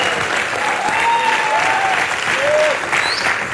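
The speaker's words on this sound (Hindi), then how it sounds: "पहले जोरदार तालियां" Loud, dense applause from a comedy-night audience for cricketer Wasim Akram, sustained throughout with a few faint whistles and crowd noise mixed in.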